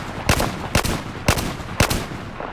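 An SR338 sniper rifle in Battlefield 4 fires four loud, sharp shots in quick, even succession, each with a short echoing tail.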